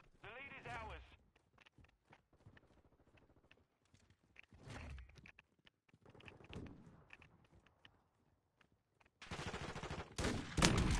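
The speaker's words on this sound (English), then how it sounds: "Sounds like battle rifle." Battle rifle gunfire in the video game Modern Warfare II, with bursts of shots scattered among people talking and a louder, dense stretch of firing near the end.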